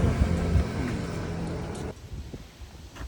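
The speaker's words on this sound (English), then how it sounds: "it is extremely windy right now" Strong wind roars and buffets the microphone with a heavy low rumble, then drops off suddenly to quieter gusts near the end.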